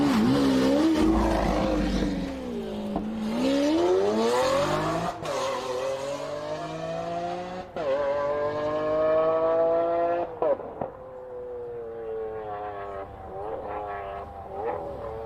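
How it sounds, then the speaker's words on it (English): A white Tesla and a Lamborghini Aventador race each other. There is a loud, steady car drone with rising and falling engine and motor whine, a brief tire squeal, and a few sharp knocks. "that white Tesla there versus a Lamborghini Aventador"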